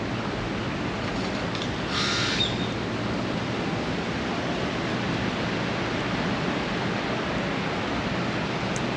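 Ocean surf rolls onto a beach at Playa Azul, Mexico, as a continuous, close broadband roar that hardly changes in level, with no voices.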